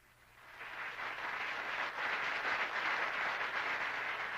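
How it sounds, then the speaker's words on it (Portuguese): Sustained applause fills the Brazilian Congress at a presidential swearing-in, a steady broadband wash of many hands clapping that swells in over the first half second and holds evenly throughout. "No Congresso, sob aplausos da Arena e o silêncio do MDB, Costa e Silva tomou posse."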